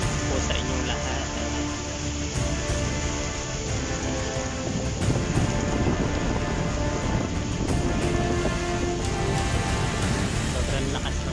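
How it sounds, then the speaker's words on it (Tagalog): Steady, dense rush of heavy afternoon rain in Abu Dhabi pouring continuously, loud and unbroken throughout, with no voices. "Sobrang lakas ng ulan."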